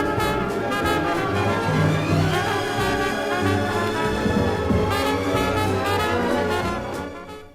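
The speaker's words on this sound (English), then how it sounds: "contains two separate programs of music which sound like this when played together at the same time" Symphonic orchestra and a jazz band from a 1963 stereo demonstration record, played at once from a single groove by one stylus, making a dense, layered blend of strings, brass and percussion that stays full and loud before fading at the end.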